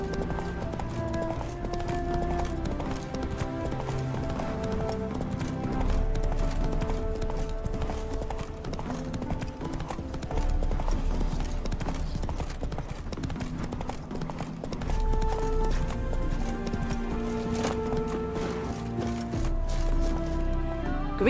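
Hooves of Roach, Geralt's horse in The Witcher 3, clip-clop steadily in a game scene, the beat running under continuous orchestral music at a moderate, even level.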